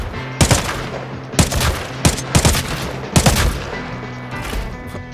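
AK rifle fire in the shooter Arena Breakout: Infinite, loud repeated bursts of automatic gunshots with short gaps between volleys, close and punchy over a steady low background hum.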